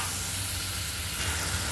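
Sprouted green moong hits a hot pan of seasoning in a home kitchen and sets off a steady, close hiss of sizzling that runs without a break. There is no talk.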